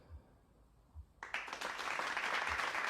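A studio audience at a podcast interview bursts into applause partway in, a dense, loud clatter of many hands clapping that continues to the end after a quiet start with a few low thumps.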